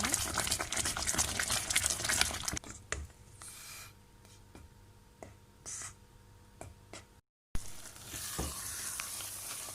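Semolina halva made with milk is stirred in a pan, giving a steady frying sizzle with soft scraping strokes that thin out after the first few seconds, then a brief gap and a return of the sizzle.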